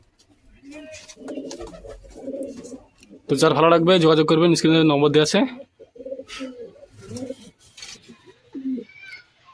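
Racing pigeons kept for sale coo close by in a loud, throaty burst of repeated calls in the middle, with softer cooing around it, while someone talks over much of it.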